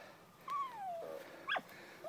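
A hunting dog working a rabbit gives a single rising-then-falling whimpering yelp followed by a short sharp yip, both fairly faint and alone in an open outdoor setting.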